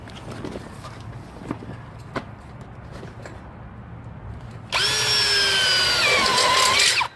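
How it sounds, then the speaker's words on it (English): After a few seconds of quiet shuffling and taps, a power drill whines loudly up to speed and keeps running close by. "I'm going to drill a hole there."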